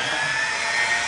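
A Dremel Micro rotary tool drills a small hole in a glass bottle, a steady high-pitched whine held close and loud for the whole moment, without speech.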